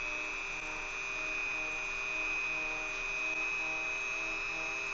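Dremel rotary tool with a wool polishing cylinder buffing metal parts of an Ambassadeur Record No. 61 fishing reel, a steady close high-pitched whine with soft rubbing underneath, continuous and even throughout.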